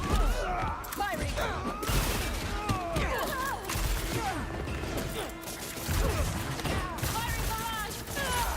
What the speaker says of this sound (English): Firing barrage.